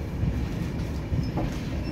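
The Virbhumi Express 19315 passenger train, running from Indore to Asarva near Udaipur, rolls along with a constant loud rumble and faint rhythmic clacking of wheels on the rails, heard from inside the coach.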